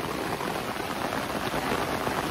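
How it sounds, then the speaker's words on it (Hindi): Heavy monsoon rain pours steadily over a campsite near a pond, a dense, loud, even hiss of drops hitting surfaces that fills the whole stretch, with no voices. "कोई नहीं आएगा, बारिश हो रहा है।"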